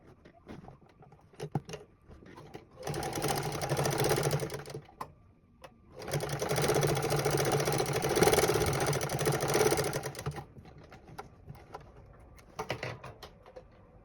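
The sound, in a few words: sewing machine stitching fabric pieces of a shorts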